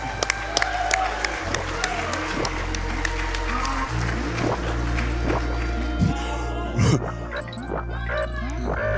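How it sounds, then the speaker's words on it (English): An audience at AGDQ 2018 claps during a live Donkey Kong Country 2 warpless race, steady scattered applause running throughout under close commentary voices. "I want to get an applause in here"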